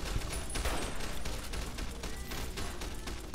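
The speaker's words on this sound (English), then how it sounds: "Getting shot everywhere." Rapid gunfire crackles in the video game Fallout: New Vegas, a dense, continuous barrage of overlapping shots close by, with no speech.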